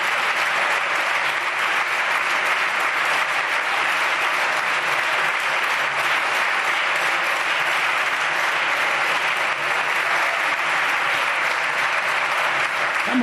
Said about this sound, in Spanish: Bueno, ovación cerrada, efectivamente.